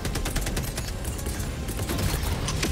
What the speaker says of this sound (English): I'm gonna drop my mortar as well.